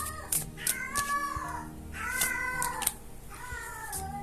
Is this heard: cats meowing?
yes